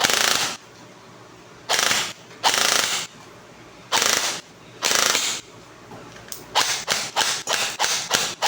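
Toy gun, a WD PDX after upgrades and repair, firing loud sharp bursts: several separated volleys, then a rapid run of close, evenly spaced full-auto shots at the end.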